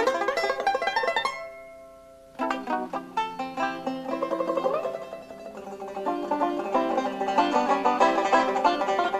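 A banjo plays a quartal arpeggio, its bright plucked notes ringing out one after another, then rolling on in a quick steady run of picked notes, clear and close with no talking.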